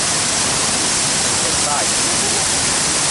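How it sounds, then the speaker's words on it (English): A waterfall in Bali or Lombok, visited just after hours of heavy rain, produces a loud, continuous broadband roar of rushing water that fills the entire scene without letting up. "we are visiting these waterfalls together"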